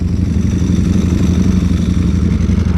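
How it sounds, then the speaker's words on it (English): A 2021 Ducati Streetfighter V4 on Miami streets, its engine a loud, close, steady low-pitched drone with a rapid pulsing throb, likely under acceleration, with no talking. "I love the awesome burst of torque that this motorcycle has."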